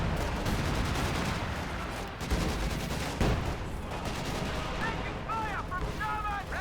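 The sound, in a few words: gunfire and tank shots in video game Company of Heroes 2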